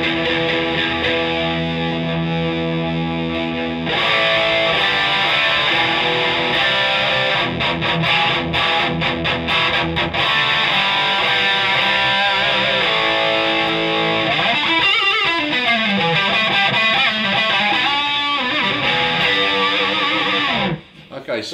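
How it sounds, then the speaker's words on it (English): Electric guitar played through an Empress Multidrive pedal on its distortion channel alone, a loud, sustained, continuously driven tone with chords and a few bent notes running unbroken throughout. "So I'll start with the distortion by itself."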